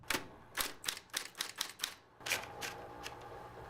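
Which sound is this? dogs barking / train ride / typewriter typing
typewriter typing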